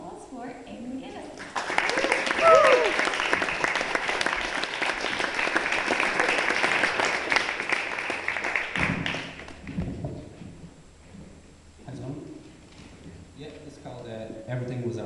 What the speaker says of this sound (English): So can we have a round of applause for Eamon Mc Guinness?